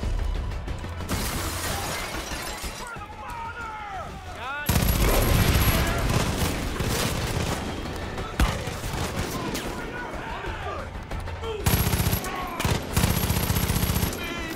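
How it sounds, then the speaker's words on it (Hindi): Far Cry 5 gunfire in bursts of loud, dense shots, heaviest in two stretches, with a voice talking over parts of it. "अबे भाई ये क्या ही चल रही है गन"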